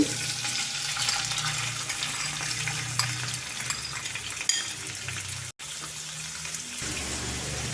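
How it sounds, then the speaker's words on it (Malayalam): Prawns frying in coconut oil in a pan, a steady loud hiss and sizzle that runs continuously for several seconds with occasional utensil scrapes and a brief dropout. "ഇനി ചെമ്മീൻ ഇതിലേക്ക് ഇട്ട് കൊടുക്കുകയാണ്"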